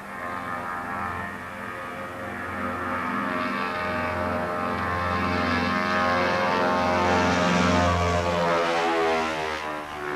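An early propeller airplane drones overhead, a steady loud engine hum with a rising and falling pitch as it passes, continuous throughout with no voices.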